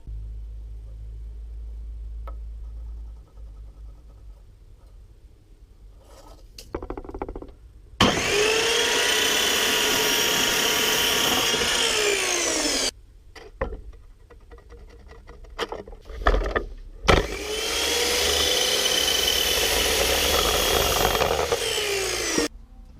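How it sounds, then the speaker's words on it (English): A drop saw cuts scrap wood for workshop shelving in two long, loud whining passes, each spinning up sharply and winding down, with quiet handling and clatter between the cuts. "I'm going to go and cut them off on the drop saw"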